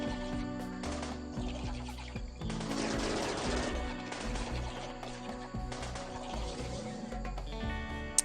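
A laser minigun in the game Rimworld fires at an insect infestation, a dense, continuous stream of rapid zapping shots under a steady background hum that holds for several seconds without pause.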